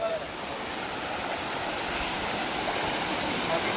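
A waterfall in a large forest gives a loud, steady, close roar of rushing water that stays unbroken for the whole stretch.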